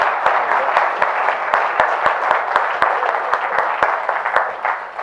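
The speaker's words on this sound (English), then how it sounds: "So please put your hands together and welcome Eben and Liz." An audience at an OggCamp talk in Manchester applauds to welcome speakers on stage, with continuous loud clapping and sharp individual claps punctuating the steady crowd wash throughout.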